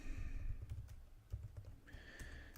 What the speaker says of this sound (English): Just typing this up, the entry is